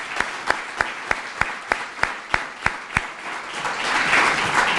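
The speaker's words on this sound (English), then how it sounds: "Let's give them a big round of applause." A community grant announcement and birthday celebration crowd applauds with steady, rhythmic clapping that swells into a fuller, louder round near the end.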